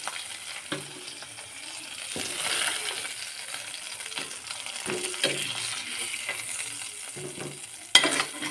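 Dried fish frying in hot oil in a pan, a steady close sizzle with occasional stirring scrapes and a sharp clink near the end, with no talking.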